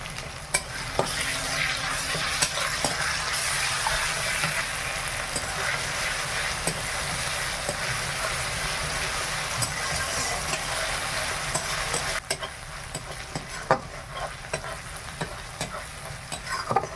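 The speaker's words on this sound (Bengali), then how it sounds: "আদা রসুনটা খুব ভালোভাবে ভাজা হয়ে গেছে" Ginger-garlic paste fries in a pan with onion and tomato for a prawn malai curry, giving a steady close sizzle with stirring scrapes across the whole stretch and no talk.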